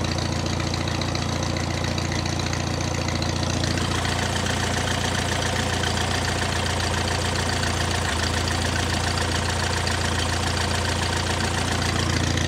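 1950 Farmall Cub tractor engine running steadily at a low, loud, close idle with a rhythmic knocking beat, shifting slightly in tone a few seconds in and continuing unbroken.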